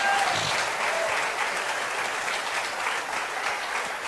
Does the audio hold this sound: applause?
yes